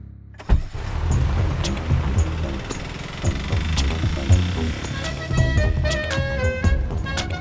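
A car drives steadily along city roads behind another vehicle, its engine and road noise forming a continuous low rumble throughout, with faint clicks and mechanical sounds layered over the drone.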